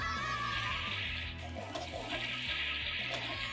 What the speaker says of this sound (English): Face the flush with the toilet trouble game.